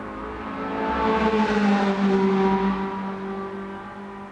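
Cars passing on a busy main road outside a house, a steady engine rumble swelling as a vehicle approaches and goes by, then fading, moderately distant with no talking.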